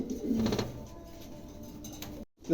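A pair of King pigeons cooing at close range, low soft throaty coos over a steady background hum, ending in a brief moment of silence.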